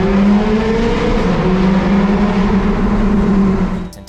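A Ferrari 575M Maranello V12 grand tourer with an F1-style gearbox revs loud and close, its engine note holding steady and rising slightly before cutting off sharply at the end.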